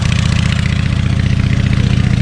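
A pump engine runs to drain water from a fish pond, a loud, close, steady mechanical throb with a fast pulsing rhythm throughout.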